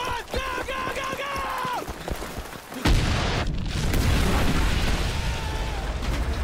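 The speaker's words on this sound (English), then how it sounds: "Big bomb!" A big thermite bomb explodes in the video game Ghost Recon: Future Soldier, a sudden loud blast following shouted voices, then a long sustained roaring rumble that fills the rest of the moment.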